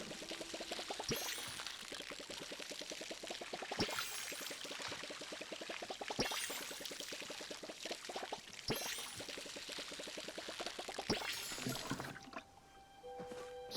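Tomato and wheat crops are watered in the Palia video game, with repeated pouring splashes recurring every couple of seconds over a steady wash of liquid noise, followed by a brief chime-like tone near the end.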